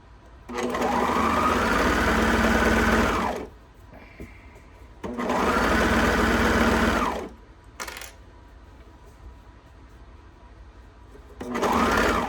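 A home sewing machine stitches elastic cuffs onto leggings in three loud, steady runs separated by quiet pauses with small handling clicks, the last run starting near the end.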